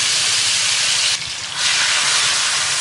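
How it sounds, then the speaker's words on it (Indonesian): Ground chili paste sambal sizzles in hot oil in a wok, a loud, continuous frying hiss close by that briefly dips partway through, then surges back. "Kita mau tumis bahan sambelnya tadi."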